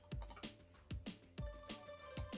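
Keys on a computer keyboard clack in an irregular run of distinct taps, a handful of close, soft strokes spaced unevenly as a web address is entered, with no talking.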